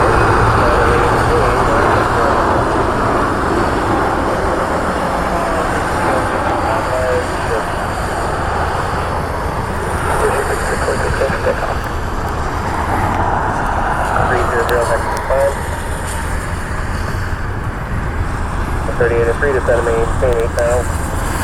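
An American Airlines airliner inbound from DFW on a rainy day makes a sustained engine rumble through the whole span, with passing road traffic noise and a few faint chirps mixed in.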